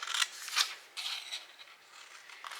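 Scissors cut through a scored paper treat box in a few short, crisp snips, close and soft, with brief pauses between cuts and no speech.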